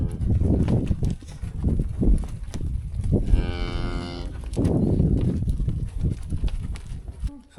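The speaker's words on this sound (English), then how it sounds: "So we got a really nice set of calves out of first-time moms here" Young calves from first-time mothers mooing on a farm, a loud close bawl standing out clearly among other lowing cattle calls and general livestock commotion.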